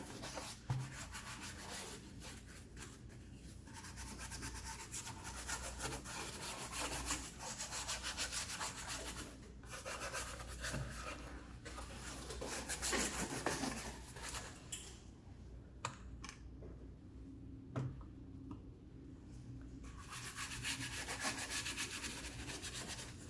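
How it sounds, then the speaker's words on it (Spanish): Brushes scrub grease and dirt off car engine parts with WD-40 cleaner and degreaser, making quiet, close, continuous rubbing and bristle-scraping strokes in an uneven rhythm with no talk. "tallen muy bien con las brochas cada una de las piezas del motor para que se les despegue la grasa y suciedad"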